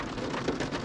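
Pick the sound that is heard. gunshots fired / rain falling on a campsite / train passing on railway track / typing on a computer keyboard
rain falling on a campsite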